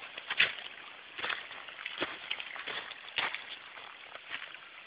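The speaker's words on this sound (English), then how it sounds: "you can actually see here water just flowing, and it just flows to nowhere" Water trickling and sloshing as it flows down into rocks near a waterfall in Logar Valley, a soft, continuous close wash with small splashy surges and no talk.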